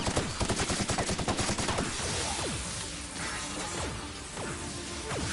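Rapid gunfire in the video game The Outer Worlds, loud bursts of shots and impacts at first, then a dense, sustained barrage of crashing fire with whooshing effects.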